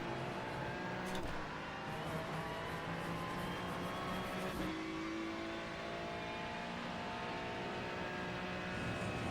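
In a racing video game at Watkins Glen, a race car engine drones steadily at high revs, pitch rising and falling through corners, with two brief gear-shift breaks early on and no speech.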